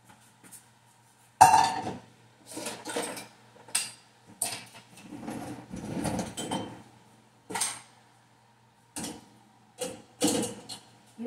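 Dishes and utensils being hand-washed at a home sink, with irregular clinks, clatters and scrubbing bursts that come in clusters separated by short pauses, close and moderately loud, under a low steady hum.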